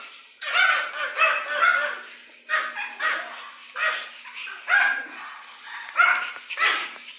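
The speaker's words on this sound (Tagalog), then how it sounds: "Gandang mga Pomeranian dogs." Pomeranian dogs barking and yipping in a string of sharp, fairly close bursts, with short gaps between the barks.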